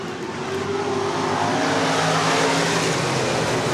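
Stock cars at Worthington Speedway rolling through a restart under caution, a loud, steady engine drone with layered tonal hums from several cars, close and continuous with no talk.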